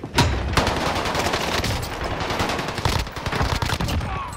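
Rapid bursts of automatic gunfire in the shooter Warzone, loud and dense through the whole stretch with repeated sharp reports and no talk.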